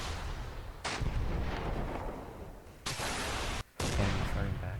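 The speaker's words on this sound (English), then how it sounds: "Okay, firing missile." Missile launches in the military simulation game Command Modern Operations: loud roaring bursts of launch noise, one short burst then two longer sustained blasts separated by a brief gap, over continuous battle rumble.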